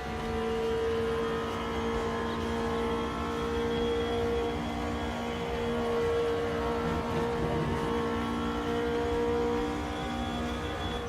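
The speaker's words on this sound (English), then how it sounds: "the engine rev should be quite like a normal volume" Race car engine in the Automobilista 2 sim racing game during an endurance race, a steady droning whine with layered harmonic tones held at an even, fairly loud level throughout, with no talking.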